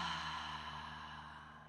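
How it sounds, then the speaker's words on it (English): One long, soft exhale out through the mouth in a breathing exercise, an airy steady breath that fades gently. "And exhale fully out the mouth."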